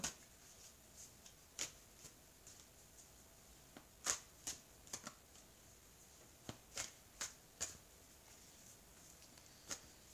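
Oracle cards being handled and shuffled, soft intermittent flicks and taps spaced irregularly, faint and close in a quiet room.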